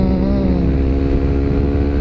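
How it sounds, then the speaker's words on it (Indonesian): A Yamaha WR155 supermoto motorcycle with a wide 150 rear tyre runs steadily while being ridden, its engine droning loud and close in a continuous hum with no break. "Ini motor tarikannya berat amat ya, gara-gara bannya gede anjir."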